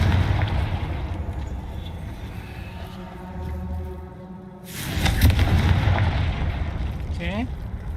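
Spell explosions from the Confringo spell in the Hogwarts Legacy video game burst loudly, a rumbling blast rising midway after a quieter stretch, with a bright crackling boom and a fading roar.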